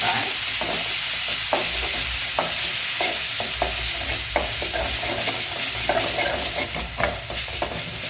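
Oil frying in a pan for an egg parotta filling, a steady close sizzle broken by repeated sharp scraping stirs, with no talking.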